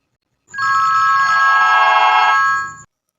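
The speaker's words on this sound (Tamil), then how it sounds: "எனது மறுபடியும் ஃபோன் அடிக்குது." A telephone bell rings loudly in one continuous burst of about two seconds, bright and steady, with no talking over it.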